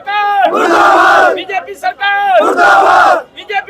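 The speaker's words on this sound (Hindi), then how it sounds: "लोग नारे लगा रहे हैं यहाँ पे" A protest crowd outside a hospital chants slogans in loud, rhythmic call-and-response bursts, each shouted line rising and falling with short gaps between, close and forceful.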